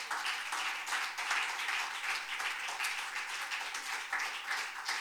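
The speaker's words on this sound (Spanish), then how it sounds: "Denle un fuerte aplauso a nuestro Dios." Church congregation applauding after a sermon, with loud, sustained clapping that stays dense and even throughout and no voices standing out above it.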